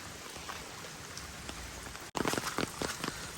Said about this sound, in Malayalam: അത്രയ്ക്ക് മഴ 2 ദിവസമായിട്ട് നിൽക്കാതെ മഴ പെയ്യുന്നുണ്ട്